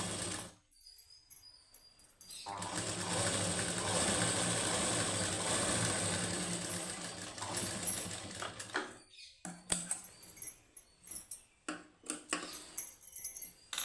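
A sewing machine stitches a plain high-neck blouse. It runs in a steady burst of whirring, then stops. After that comes a series of short clicks and handling noises, all fairly quiet.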